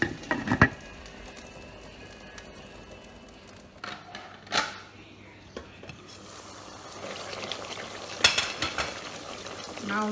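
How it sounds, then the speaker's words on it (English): Onions and tomato paste fry in a pot for a tomato beef stew, giving a low, steady sizzle broken by occasional clattering stirs and scrapes. "we'll continue with frying our onions and getting the tomatoes ready"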